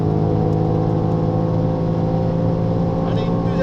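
A BMW X6M safety car on track at the Dijon circuit, heard from onboard: a loud, steady engine drone with strong low harmonics held throughout at high speed, with no audible talk.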